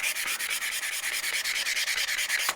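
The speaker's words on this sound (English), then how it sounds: "sanding down this key a little bit because there's a million scratches in it." A bench vise key from a Wilton Bullet Vise is sanded to remove scratches. Quick, steady back-and-forth rubbing strokes come through close and even, then end with a final scrape.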